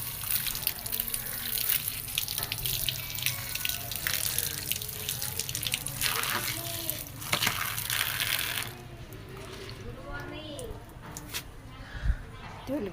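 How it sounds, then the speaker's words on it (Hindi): Leaves are washed under a running kitchen tap for a vegetable dish, with water splashing steadily for several seconds before it shuts off, while someone talks nearby. "धो लेती हूँ पत्ते।"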